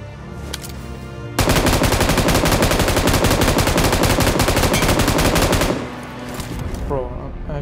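Loud, sustained automatic gunfire in a shooter video game, a long unbroken stream of rapid shots lasting roughly four seconds, then tapering to scattered sounds.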